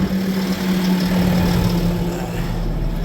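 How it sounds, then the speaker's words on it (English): A tractor engine idles while warming up before loading, a steady low mechanical rumble with a constant hum, continuous and close throughout. "So I've been letting the tractor warm up a little bit."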